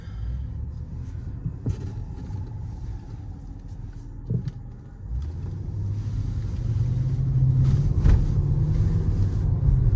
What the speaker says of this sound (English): And just instant response with this supercharged V8.